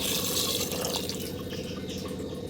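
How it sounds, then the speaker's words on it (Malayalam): Water pours into a pressure cooker holding koorkka (Chinese potato) and salt, a steady close splashing fill that runs without pause throughout. "ഇനി ഇതിലേക്ക് വേവാൻ ആവശ്യമായ വെള്ളം ഒഴിച്ചു കൊടുക്കാം."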